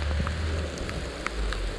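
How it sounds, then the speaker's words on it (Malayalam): Light rain drizzles outdoors in Kollam, a steady soft patter of scattered drops over low ambient rumble, with no talking. "നല്ല മഴക്കോളുണ്ട്, മഴ ഇങ്ങനെ ചാറിക്കൊണ്ടിരിക്കുകയാണ്"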